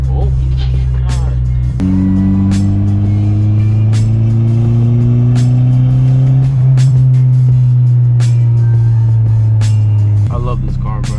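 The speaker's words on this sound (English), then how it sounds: "Even when you don't hit boost, you just hear the turbo spooling" A boosted 9th-generation Honda Civic (2012-15) with a turbo pulls hard from inside the cabin, its engine note rising steadily through a long gear and the turbo spooling audibly. A shift breaks the drone partway through, with brief clicks and knocks from the cabin.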